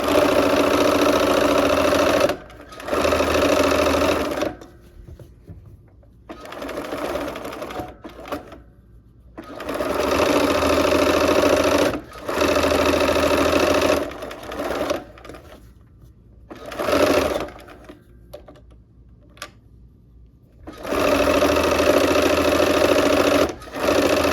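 Sewing machine stitching a quilt block, running in several loud bursts of rapid mechanical whirring separated by short pauses and handling noises.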